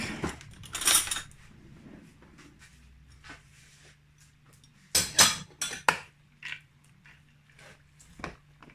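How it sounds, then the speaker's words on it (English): Coronation chicken being mixed with mayonnaise in a bowl, giving scattered clinks and scrapes of a utensil against the dish in short bursts with quiet gaps, fairly close and moderately loud. "let's give that a good old mix up"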